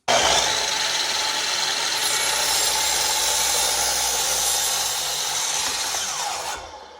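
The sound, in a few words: jigsaw cutting two wooden boards at once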